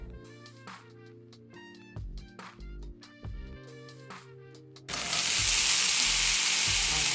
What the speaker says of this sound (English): We added some mixed peppers and tomatoes.